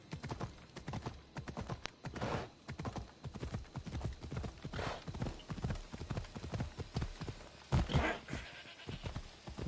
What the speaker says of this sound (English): Shouldn't really ride my horse through here